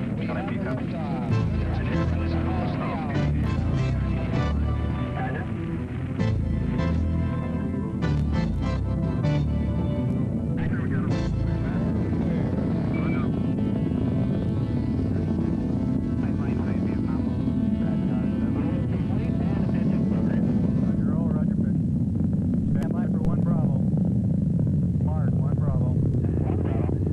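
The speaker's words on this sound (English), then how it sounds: "all engine running. Liftoff, we have liftoff." Rocket engines roar at a moon mission liftoff in a continuous, loud, broad rumble that persists throughout, with a voice talking over it.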